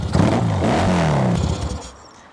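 A kickstarted motorcycle revving, its engine climbing in pitch and then settling, close and loud, fading at the end.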